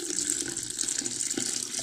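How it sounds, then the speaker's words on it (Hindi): Fresh water pours from a jug into a clay pot holding about fifteen days of collected cream, a continuous close splashing gush that runs steadily throughout. "तकरीबन एक जग मैंने इसमें पानी डाल दिया है"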